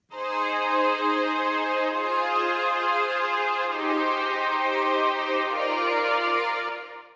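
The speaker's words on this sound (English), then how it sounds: "The first one is string ensemble from the Kashmir pack," Synthesized string ensemble layer from the Kashmir sample pack for a piano house track, one sustained chord swelling in and holding steady for about seven seconds before fading, rich and bright with no voices.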